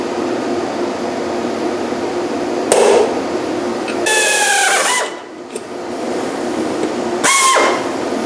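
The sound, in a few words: drilling a hole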